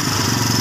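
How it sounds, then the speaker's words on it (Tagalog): A Kawasaki Barako motorcycle engine runs steadily after a tensioner replacement, a close, loud, even idling chug with a regular low pulsing beat and no talk. "Tingnan nyo po yung andar ng makina, oh."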